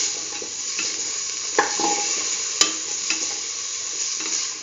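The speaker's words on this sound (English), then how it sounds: "keep on sauteing," Chayote paste sautéing in a pan, a continuous close sizzle with a few sharp scrapes and knocks from the stirring utensil, loud and steady.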